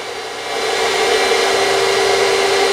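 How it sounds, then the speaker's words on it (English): An industrial vacuum running through a 70-foot hose, a loud steady roaring whoosh with a fixed whine that ramps up in the first half second and then holds constant, no voices. "When we turn on the vacuum and test it for inches of water lift"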